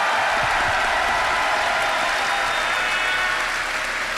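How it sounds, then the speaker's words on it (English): A large event audience gives dense, sustained applause, many hands clapping at once in a steady wash of sound with no gaps. "one more round of applause for the amazing sound team"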